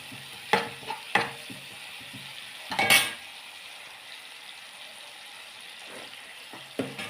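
Chili sautéing in a pan for a Kerala bean stir-fry (payar mezhukkupuratti), with a faint sizzle under sharp clinks and scrapes of a spoon against the pan and a few scattered stirring knocks.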